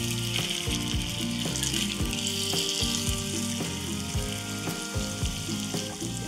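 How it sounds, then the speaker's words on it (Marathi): Masala kaap shallow-fry in hot oil, giving a steady, close sizzle and crackle with faint intermittent bubbling and no voices. "आता आपण हे शॅलो फ्राय करूयात।"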